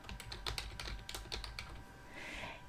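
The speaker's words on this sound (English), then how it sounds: "So I'm going to type in their do controller" Quick clusters of keystrokes on a computer keyboard at a PC, close and crisp, tapping in an irregular rhythm for a few seconds with no talk.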